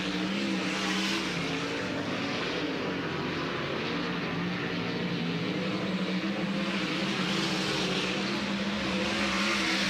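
Race cars at speed on the dirt track at Eldora Speedway, a continuous dense engine roar that swells and fades slightly as they streak through the turns; loud and steady, with no talk.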